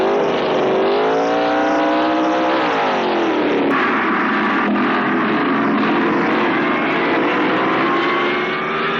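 Loud roaring drag race car engines accelerating hard, pitch climbing then dropping at gear shifts, continuous and close.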